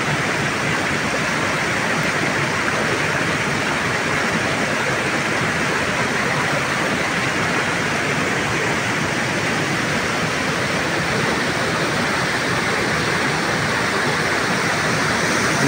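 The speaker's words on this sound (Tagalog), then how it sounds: "ulan ng ulan" A steady, dense roar of heavy rain pours without pause throughout, loud and even, with no voices.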